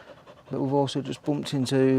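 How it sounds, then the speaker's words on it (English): A dog pants heavily in quick, rhythmic breaths close to the microphone, nearly drowned out by a person talking over it at a campsite. "Excuse my dog, who sounds more like a steam train."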